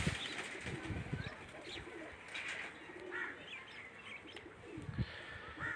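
Pigeons on a rooftop cooing softly with scattered chirps and a few wing flaps, faint and somewhat distant against a light background hum.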